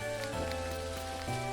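Steady rainfall in the farming game Dinkum, an even wash of falling rain over a backdrop of sustained musical tones, with no talking.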